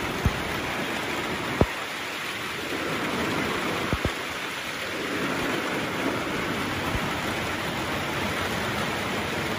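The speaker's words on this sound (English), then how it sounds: "Rain's coming down a little harder now in the greenhouse." Steady rain drums on a farm greenhouse roof in a constant hiss, punctuated by a few sharper louder drips or taps, with no voices present.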